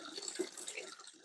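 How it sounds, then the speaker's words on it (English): Tap water running over a whole vegetable stalk being rinsed in a kitchen sink, a steady close splashing flow with small drips, brief and moderately quiet. "let me rinse this off"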